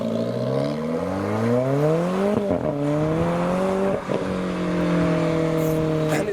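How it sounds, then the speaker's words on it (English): A pearl white Alfa Romeo 4C pulls away from a car show, its engine note climbing through gear changes with a brief dip, loud and close as it accelerates down the road. "Next up we have the pearl white Alfa Romeo 4C"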